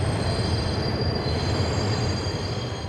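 A New York subway train runs at night toward Manhattan, a steady loud rumble of wheels on track with high, sustained squealing from the rails.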